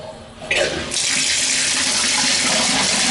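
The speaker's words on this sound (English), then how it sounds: "this again is just the hot water. Terrific water pressure, you can hear it." A hot water tap opens with a short splash, then a strong-pressure stream gushes into a sink as a loud, steady hiss.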